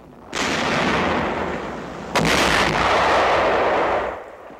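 A World War II tank of the 2nd Armored Division firing its main gun, two heavy booming blasts that each roll into a long, loud rumble, with no voices.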